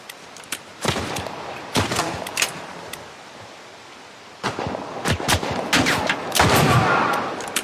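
Gunfire in The Last of Us Part 1, an El Diablo revolver among other shots: loud sharp bursts in uneven clusters, some rapid and overlapping, separated by quieter gaps with a faint game backdrop.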